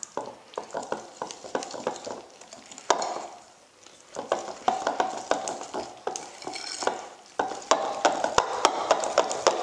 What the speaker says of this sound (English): Add in the wet ingredients and mix this to a nice soft batter.